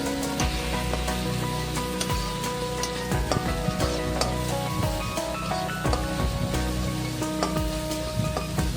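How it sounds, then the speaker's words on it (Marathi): Ginger garlic paste sautéing in hot oil for egg lababdar, a dense, crackling sizzle with scattered pops and light clinks of a utensil, steady and close. "ह्यामध्ये मी अद्रक लसूणची पेस्ट ॲड करते 1 चमचा। त्याला पण चांगलं मी तेलात परतून घेणार आहे।"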